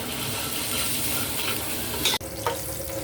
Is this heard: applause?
no